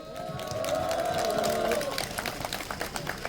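Crowd at an outdoor political rally in Chunyang-myeon applauds and cheers steadily throughout, a dense wash of clapping with a sustained tone and some voices mixed in.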